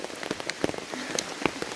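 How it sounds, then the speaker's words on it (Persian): Heavy rain pours down on a campsite, a dense, steady hiss of drops striking surfaces close by, with sharper individual splats popping out now and then; no one speaks. "بارون شدید گرفته."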